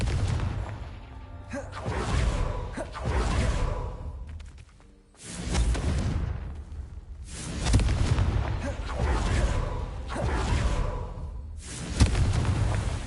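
Repeated booming fire-spell explosions from the Confringo spell in Hogwarts Legacy, each a dense whooshing blast that swells and fades, several in succession with brief gaps, loud and close.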